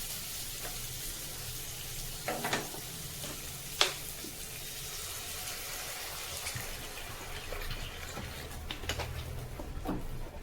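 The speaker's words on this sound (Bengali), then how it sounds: "এবার জল দিয়ে দেব।" Water poured into a pan of light vegetable curry with green banana, potato and long beans, a steady wash of sizzling and bubbling with a few sharp clinks from the pan, continuous and close.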